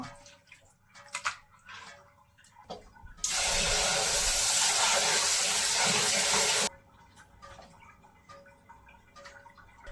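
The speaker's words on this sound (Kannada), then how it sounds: "ಇವಾಗ ಈ ಚಿಕನ್ನ ವಾಶ್ ಮಾಡ್ಕೊಂಡ್ಬಿಡೋಣ" Tap water gushes steadily for about four seconds while raw chicken is washed, then cuts off abruptly. It is close and loud, with quieter kitchen clatter before and after.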